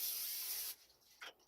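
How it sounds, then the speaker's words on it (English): Cooking spray hisses in one steady, close burst onto aluminum foil, then stops, followed by two short, softer spritzes. "We're going to spray down our aluminum foil"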